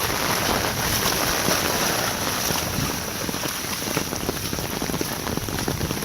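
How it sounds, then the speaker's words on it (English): Heavy rain pours down steadily during a Florida summer storm, a dense, loud, unbroken roar of drops hitting the ground close by, with no let-up. "Look at all this rain."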